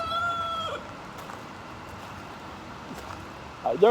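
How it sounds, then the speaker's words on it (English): A rooster crows at the start, a drawn-out call over steady outdoor noise, then quieter background until a brief cluck near the end. "the other rooster is now crowing"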